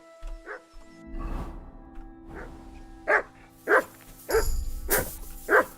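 Dog barking in the video game Kingdom Come: Deliverance II, a series of loud single barks in an uneven rhythm, the last several sharp and close, over low background rumble with faint human sounds early on.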